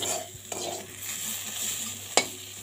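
Jute leaves fry in oil with salt until crisp, crackling softly while a spatula stirs and scrapes the pan, ending in one sharp metallic clank.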